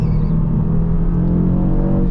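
Steady engine drone and rumble from a 2025 Audi RS3 Carbon Black with quattro all-wheel drive, heard from inside the car as it accelerates hard through a corner on a track lined with hay bales; loud and continuous, no talk.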